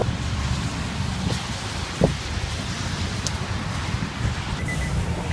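Steady rain falls outside on a gloomy day during a road trip, a dense continuous hiss with wind noise and a single brief knock partway through, with no voices.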